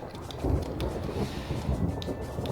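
A hail storm in the Minecraft video game makes a dense, rumbling roar with a constant rushing wash and occasional brighter hits, heavy and unbroken throughout, with no voices.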